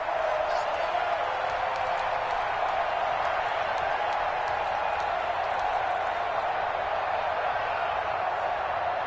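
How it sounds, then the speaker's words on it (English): A stadium football crowd applauds the defense after a stop forces fourth down, a steady, wide wash of clapping and crowd noise that holds evenly throughout without pause. "How about some applause for the defense there?"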